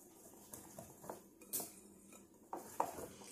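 Muffin batter of oat flour, banana and blueberries being mixed in a bowl, dry ingredients folded into wet, with scattered clinks and scrapes of a utensil against the bowl, quiet and close.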